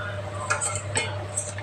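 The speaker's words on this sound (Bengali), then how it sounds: "এখন আমি মাছগুলো দিয়ে দিচ্ছি" Hilsa fish pieces going into boiling gravy in a pot: a low bubbling simmer with a few soft clinks and splashes of metal utensils, close.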